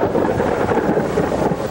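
Severe thunderstorm near a motel in Marshall, Texas, with a heavy steady roar of rain and low rolling thunder rumbling continuously at close range, no voices.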